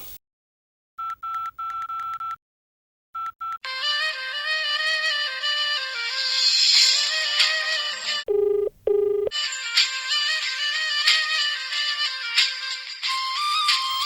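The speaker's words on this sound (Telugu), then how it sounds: "ఇదిగో అతను నా సెల్కి చేశాడు" A mobile phone rings with an incoming call in a TV serial scene: a few short electronic beeps, then a steady, fairly loud melodic ringtone that plays alone with a brief dip near the end.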